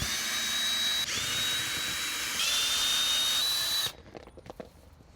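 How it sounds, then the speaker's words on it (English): A power drill backing screws out of an RC crawler course, a loud continuous high whine in long runs with brief pitch changes, then stopping and followed by small clicks and handling noise. "now let's undo our screws and we'll see what the damage is"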